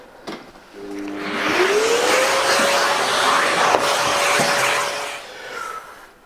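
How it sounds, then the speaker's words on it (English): A vacuum cleaner hoovering up dust in a workshop spins up after a brief knock, its motor whine rising and then holding as a loud, steady roar before it eases off near the end. "A quick hoover over just to get rid of any dust."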